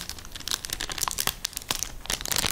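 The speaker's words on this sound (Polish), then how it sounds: "Rozdzieram to. To jest chyba folia jakaś antystatyczna czy coś takiego" Crinkly antistatic foil packaging torn open by hand during a new computer unboxing, a dense run of sharp crackling rips and crumples that come close and fairly loud, pausing briefly around the middle before a final burst.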